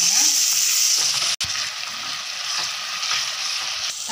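Tomatoes with salt sautéing in a pan for fish gravy, a dense, bright, steady sizzle close up, broken once by a brief stir, with no talk.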